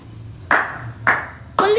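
Three sharp, close hand claps land about half a second apart, each a crisp single smack with a brief ring, against a quiet indoor background.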